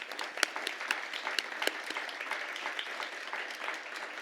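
Applause at a Grade 6 school celebratory ceremony, an audience clapping fairly softly and at a distance, with scattered individual claps over a thin steady patter for about four seconds.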